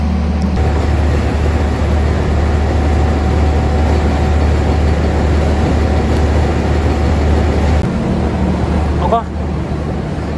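Interior of the KA Tegal Bahari New Generation passenger train out of Jakarta running along the track, a loud, steady rumbling roar with a faint high whine, easing slightly near the end.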